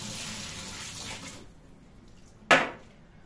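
Washing soda water poured out of a container into a sink, a steady running splash for about a second and a half, then quiet and one short sharp splash near the end.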